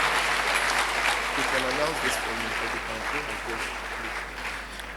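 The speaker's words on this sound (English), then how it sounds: "A better round of applause for our principal." An anniversary celebration crowd at a college applauds the principal, steady many-handed clapping that tapers gradually, with a voice talking over it in the middle.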